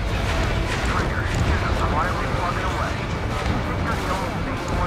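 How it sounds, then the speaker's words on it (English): Fuel tanks exploding in a mission of the jet combat game Ace Combat 7: Skies Unknown, a rolling series of booming blasts and crackling debris, continuous and loud with no pauses. "there's so many fuel tanks and they explode and they destroy the targets around them"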